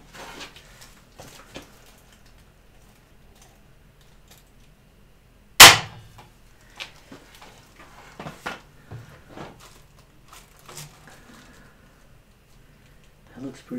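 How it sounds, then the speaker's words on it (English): A staple gun fires once into the stringers of a skin-on-frame kayak build, a single sharp loud snap midway, surrounded by light workshop ticks, clicks and handling noises. "Time for a staple."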